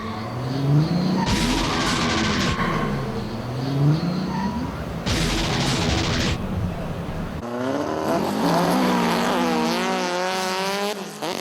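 Tuned cars doing runs at a GTI tuning event at the Hockenheim track, engines revving loudly with rising and falling pitch and squealing tires, close and continuous, with a crowd-like wash behind.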